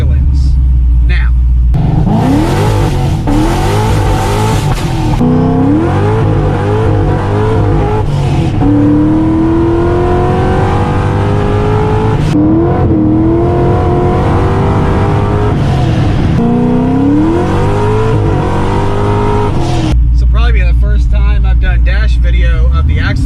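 A Chevy Corvette on regular Michelin street tires performs axle-dump launches: a loud, continuous engine roar with rising revs and gear changes, close throughout, with a brief dip midway and talk heard over it.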